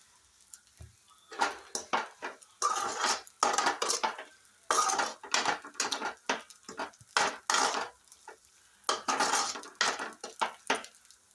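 Spinach poriyal is stirred in a pan with a spoon, giving repeated close scraping and clattering strokes in uneven bursts, loud and alone with no talk.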